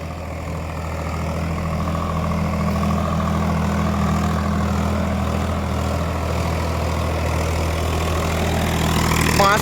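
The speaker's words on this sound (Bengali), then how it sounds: "এই রোটারটা এখন চালানো হচ্ছে।" A tractor-driven rotavator runs behind a John Deere 5050D or Swaraj 744XT tractor, its engine holding a steady, loud, droning hum with a low throb throughout.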